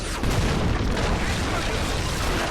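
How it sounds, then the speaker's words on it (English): Cannon fire in the video game Fable III, a heavy sustained booming roar with rumbling low end, loud and close, with a voice talking underneath. "Oh, well-placed cannon. Fire."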